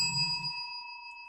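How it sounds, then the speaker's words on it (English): A single bell on a quiz show is rung once, giving a clear ding that rings on steadily and fades after a short murmur at the start. "We have Muriel on the bell"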